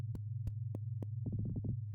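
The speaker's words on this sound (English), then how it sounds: "Whatever was within is now gone, replaced by a vascular sound of a heartbeat" Heartbeat sound effect in the SYNTAXIA game, a low steady hum with a few isolated thumps followed by a fast run of throbbing beats, close and fairly quiet.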